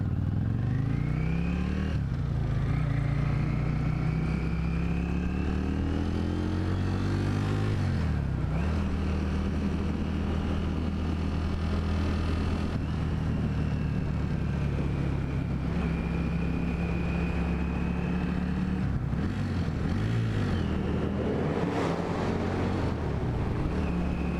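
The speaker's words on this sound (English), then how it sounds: "whatever that four-wheel drive car was has totally overshadowed me" A four-wheel drive car passes inside a tunnel, heard from a Yamaha XV535 Virago motorcycle. A steady, loud engine drone fills the enclosed space, with pitch sweeps as the vehicles' revs shift and wind buffeting throughout.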